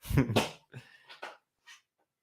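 A dog in the room makes a short burst of loud snorting or whimpering noises up close, followed by a few fainter sniffs and huffs, then quiet.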